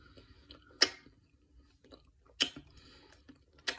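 Crunchy plain pigless pork rinds being chewed close up, three sharp crunching bites spaced about a second and a half apart with quieter chewing in between, no talking.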